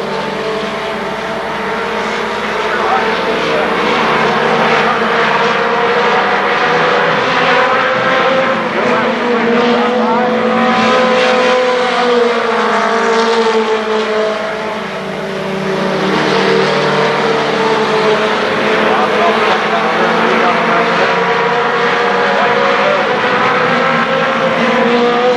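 Race cars roar around the oval at Kil Kare Speedway during a 1996 Labor Day championship, a continuous loud engine drone with rising and falling passes, under a public-address announcer calling the running order.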